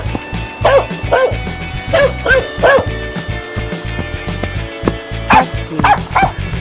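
A dog barks in a series of loud, close yips and bow-wows, about eight sharp barks in quick bursts over a thumping musical background.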